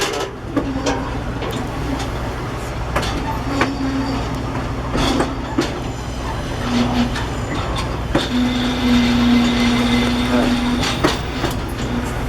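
A train on the Hiwassee Loop excursion rumbles steadily along the rails with rhythmic clacks and occasional metallic squeals, a constant loud rolling noise heard from inside the car.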